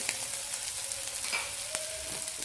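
Tomatoes sauté in a hot pan for a curd chutney, giving a steady, close sizzle and crackle with occasional scraping stirs, without any talk.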